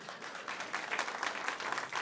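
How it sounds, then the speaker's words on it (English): A live audience claps for a celebrity chef, a short burst of fairly quiet applause that builds slightly and holds steady over two seconds. "go ahead, give her the applause."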